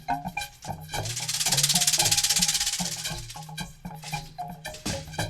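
A steady, buzzing rattle swells up and fades over a few seconds, with a soft musical backing underneath; likely a voice imitating a rattlesnake's tail.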